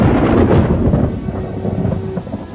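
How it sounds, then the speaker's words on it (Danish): Heavy rain pours loudly under a low, rolling rumble of thunder, a dense wash of falling water with the deep roll fading slightly as the downpour continues. "Regnen kom."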